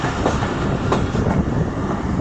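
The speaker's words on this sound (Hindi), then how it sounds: "डाउन फरीद एक्सप्रेस लांडी रेलवे स्टेशन पहुंच रही है" The Fareed Express rolls into Landhi railway station with a continuous loud rumble of wheels on rail and faint clacks, close by and alone.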